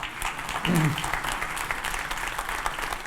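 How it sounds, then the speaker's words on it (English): Warm audience applause in a university hall for the UN Secretary-General, a steady wash of many hands clapping throughout, with a brief voice rising over it near the start. "So please join me with another warm round of applause"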